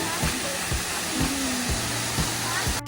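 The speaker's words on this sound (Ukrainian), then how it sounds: "І водоспад." The Zhenetskyi Huk waterfall in the Carpathians roars as a steady, broad rush of falling water that fills the whole clip, with faint thumps and low sounds underneath.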